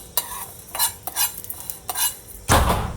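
Whole coriander seeds and fennel dry-roasting in a pan, stirred in a few quick scraping strokes that rustle and rattle close by, ending with a louder scrape.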